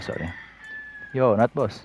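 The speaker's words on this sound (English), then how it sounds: "I'm really sorry for the background noise of the birds and a chicken" A pet chicken crows once, briefly, in the background of a morning room while someone talks over it, and a thin, steady bird whistle hangs faintly in the air.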